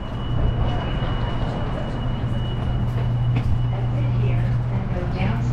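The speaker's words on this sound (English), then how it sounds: "The train features the newer Siemens S70 US cars operating since 2011 in Salt Lake City." A Siemens S70 light rail train in Salt Lake City rumbles steadily along the rails at close range, a continuous low hum with faint squeals and rattles running throughout.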